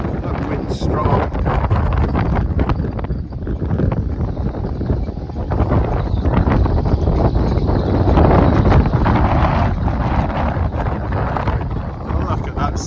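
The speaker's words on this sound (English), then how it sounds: "Wow, that wind's strong." Strong wind buffets the microphone in a steady, loud roar during a shore fishing session for whiting at Sunderland, continuing without pause throughout.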